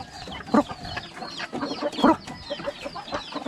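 A Talisayin hen clucks close by in short, irregular bursts, with two louder clucks standing out among softer scattered calls.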